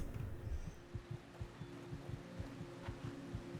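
Low-health heartbeat effect in the video game Skyrim: soft, muffled thumps pulsing at a steady, regular rhythm over a quiet game ambience, with no talking.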